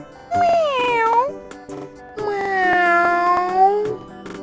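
A cartoon cat meows twice, long drawn-out tonal cries with a falling then rising pitch, loud and close, set in a children's alphabet song.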